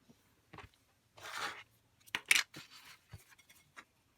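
Scissors trimming a paper artist trading card, a few close, crisp snips and paper rustles separated by short pauses in a quiet room.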